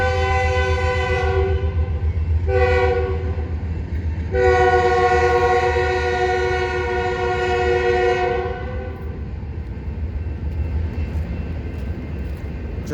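Train horn blasting in repeated loud, sustained chords over the steady rumble of a passing empty train, the horn cutting off after several seconds while the rolling wheel noise continues.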